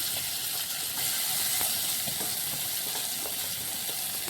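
Chopped vegetable pieces tossed into hot oil with garlic and cumin for a quick curry, a steady bright sizzle and frying hiss with light clicks of stirring, close and continuous.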